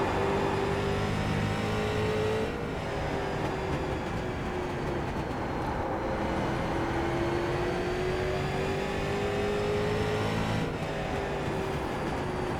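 A video game race car engine on an oval track drones at high revs, its pitch climbing slowly through long gear pulls with brief dips at shifts, steady and loud throughout.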